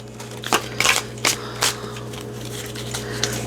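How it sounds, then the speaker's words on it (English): Tarot cards being shuffled by hand: several short, close riffling bursts, uneven in rhythm, over a faint steady hum, with no talk. "Oh god, I can't shuffle today."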